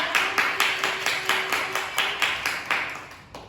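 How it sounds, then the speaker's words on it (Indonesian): A classroom of students claps together for a classmate, a steady rhythmic applause of about a dozen even, close beats with a faint sustained tone running underneath. "Beri aplaus untuk Mbak."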